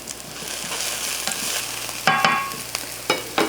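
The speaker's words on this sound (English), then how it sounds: "These onions are just starting to brown up a little bit" Onions fry and brown in a pan for a beef cottage pie, with a steady close sizzle and a few louder stirring scrapes and clicks.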